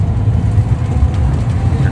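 Engine drone of a Suzuki Bolan (Carry Dabba) van on a test drive, a steady low rumble heard from inside the cabin with faint voices in the background.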